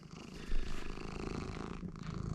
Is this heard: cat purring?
yes